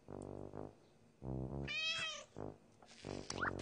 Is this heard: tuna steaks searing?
no